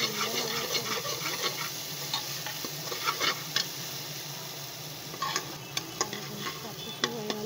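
Spice masala stirring and frying in oil for a Bengali begun alu torkari, with a steady sizzle under repeated scraping and clinking spoon strokes against the pan, close and alone without talk.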